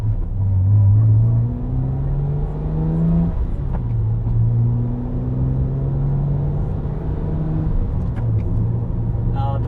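BMW E90 328i with its N52 straight-six and upgraded exhaust, droning steadily near and loud with rising and falling pitch as the engine pulls through revs, no talk over it.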